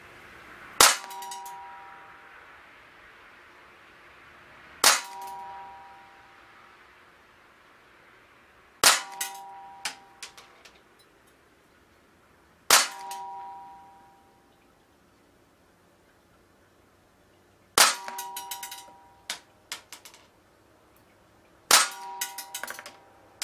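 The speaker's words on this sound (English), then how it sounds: "I'm going to unleash 8 rounds into this target with my double action trigger" Cybergun Jericho 941 airsoft pistol fired double action into a target, eight sharp snapping shots with metallic clanks, spaced several seconds apart and then in quicker pairs, close and clear with no talk.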